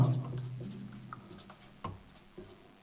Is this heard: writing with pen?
yes